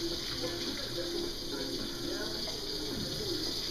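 Tap water streams steadily as a bedpan is rinsed in a nursing care setting, a continuous gushing splash from start to finish with quiet talk in the background.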